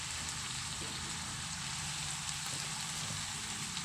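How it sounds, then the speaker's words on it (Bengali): Mutton curry with potatoes and cabbage sautéing in a pan, a steady soft sizzle and crackle like light rain, continuous and fairly quiet, heard up close with no talking. "দিয়ে আবারও ভালো করে আমি 15 থেকে 20 মিনিট কষিয়ে নেব।"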